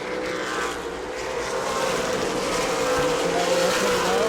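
Race cars roaring around the New Smyrna track in the Governor's Cup, a loud sustained engine drone that swells steadily as the pack runs wheel to wheel, with no talk over it.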